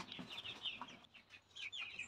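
Chickens on a poultry farm cluck and call repeatedly at close range, overlapping fowl voices continuing through the short stretch without speech.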